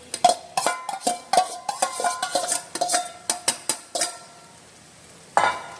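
Rice being stirred into vegetables in a hot pan, a spoon scraping and clinking against the metal in quick irregular strokes over a soft sizzle, close and fairly loud, with a pause before one last scrape.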